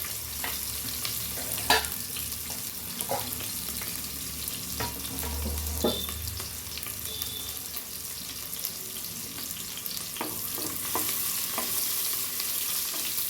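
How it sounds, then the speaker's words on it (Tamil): Shallots sizzle and fry in hot oil while a utensil stirs and scrapes the pan, with occasional clinks over the steady hiss. "சின்ன வெங்காயம் தாளிச்சிருக்கிறோம் தாளிக்கிற கொஞ்சம் போட்டு"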